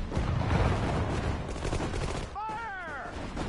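Battle gunfire in a war video game, with a thick, continuous crackle of massed rifle and machine-gun shots near and loud, and a voice briefly heard over the barrage.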